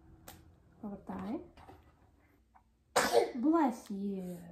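A single sneeze bursts out near the microphone in a home setting, with a child's and an adult's voices chattering around it.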